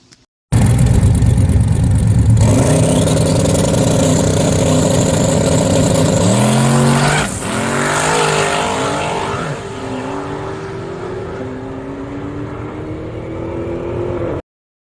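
Drag race cars roar at close range: a loud sustained engine drone and whine that climbs in pitch, dips midway, then continues at a lower steady roar before cutting off abruptly.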